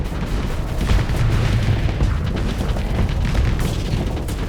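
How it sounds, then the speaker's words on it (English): Repeated booming explosions and weapon fire in the space combat game Starsector, a dense barrage of heavy low thuds and sharp bursts overlapping continuously at high volume. "Resuming the explosions in 3"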